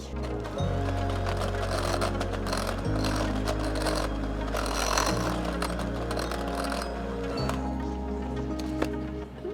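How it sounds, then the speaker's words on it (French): An electric hand mixer whirring steadily through a no-bake keto cheesecake mixture of cream cheese, lemon juice and vanilla, loud and close, with the motor pitch shifting in a few distinct steps and faint clatter beneath. "je vais bien battre avec un batteur électrique"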